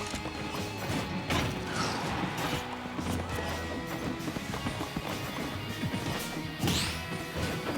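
Steve's minecart rolls and crashes in Super Smash Bros. Ultimate during a tournament match of Steve against Wolf, a rattling, clattering run of mechanical hits buried in dense game effects and a busy crowd-like din.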